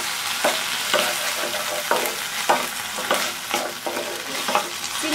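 Vegetables with bread and soy sauce are stir-fried in a pan, a loud close sizzle with rhythmic scraping strokes roughly every half second as everything is tossed, no talking.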